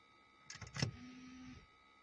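A brief electric motor whir from a Renault Scenic 2 electric parking brake releasing, a short steady hum lasting about half a second after a couple of faint clicks, close and quiet.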